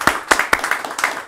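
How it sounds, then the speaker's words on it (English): A handful of sharp, separate hand claps ring out close and loud in a casual talk-show setting, a brief uneven burst of about four claps. "Everybody clap."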